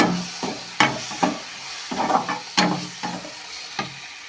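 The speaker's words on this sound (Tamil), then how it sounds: "இந்த பொடியெலாம் வந்து எண்ணெயில் வணங்குதுங்களா" Spice powders frying in hot oil for potato kurma, with repeated stirring scrapes and short sizzling bursts at an uneven rhythm, close and fairly loud, with no talking.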